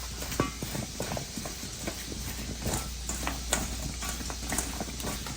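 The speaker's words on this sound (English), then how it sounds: "I'm going to toss the potatoes around because we want an even distribution of seasoning." Seasoned potatoes and onions tossed in a hot skillet with bacon, giving a steady close sizzle broken by frequent soft scraping and clattering knocks as the pieces are turned.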